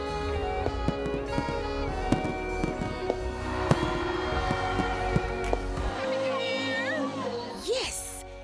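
Fireworks at the New Year's Fireworks on the Waterfront celebration in Jamaica, with sharp pops and cracks bursting at an irregular rhythm over loud music, crowd noise and a voice talking.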